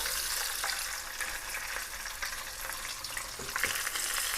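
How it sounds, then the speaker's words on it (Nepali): Sea bream frying in hot oil in a pan, a steady, fairly loud sizzle and crackle throughout with faint stirring or spooning sounds and no speech. "फेरि प्यान समातेर तेल माथिबाट यसरी फ्राई गरिदिने"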